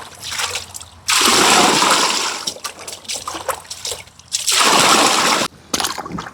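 Fermented liquid fertilizer is poured from a bucket onto plants in two long, loud splashing gushes close by, with softer trickles and dribbles in between.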